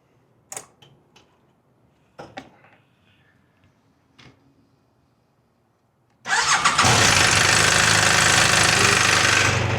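After a few quiet clicks and knocks, an engine cranks and fires into a loud, harsh, rough-running roar as oil has not yet reached the cylinder head, close by and continuous to the end.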